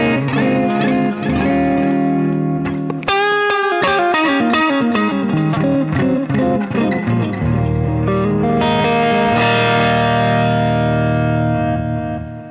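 Electric guitar with overdrive from a Valeton GP-5 multi-effect pedal over a clean amp, playing sustained driven chords and then a quick run of picked notes before settling into ringing chords, loud and close with no talking.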